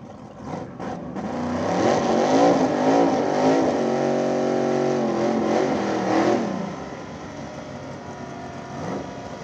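A Ford Mustang no-prep drag car launches and accelerates hard at a street race, its engine roar swelling loud and close for several seconds before fading away as it passes.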